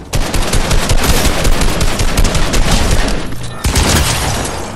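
Sustained rapid gunfire from a video game, dense automatic bursts firing almost continuously with a brief dip before resuming, loud and close.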